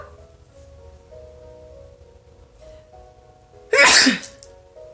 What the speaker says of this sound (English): So I have to sneeze.